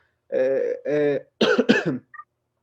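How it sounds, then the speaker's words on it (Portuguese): Two deep throat-clearing coughs from someone on a podcast, close and distinct, followed by a short burst of rougher coughing and a faint trailing sound. "Olha a tosse."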